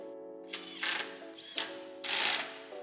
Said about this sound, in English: Now we can tighten down all the M6 hardware and the collar to secure the bracket